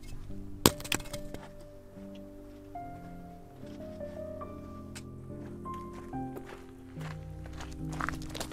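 A pumice stone is dropped on the Tongariro Crossing trail in New Zealand, giving a sharp hollow, glassy clink followed by a few lighter knocks and clatters among soft footsteps and rustling.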